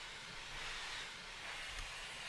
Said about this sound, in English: Because it's blowing off lots of steam and stuff